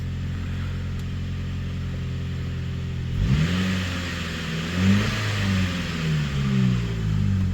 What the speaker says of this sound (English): I do also have an exhaust leak right now